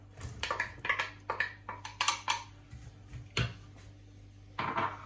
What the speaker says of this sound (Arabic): صافي هنا البنات غادي نبقى نحركهم حتى يتشحروا ليا واحد شويه